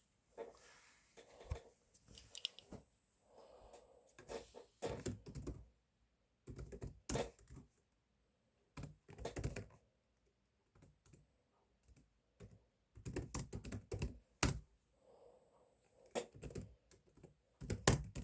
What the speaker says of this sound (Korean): 저 타자 진짜 빠르죠?